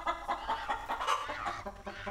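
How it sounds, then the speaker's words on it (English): Hens in the video game Legend of Mir cluck in a distorted, bit-crushed, demonic-sounding way, a rapid burst of harsh, gritty clucks close and alone. "The hens are starting to sound demonic"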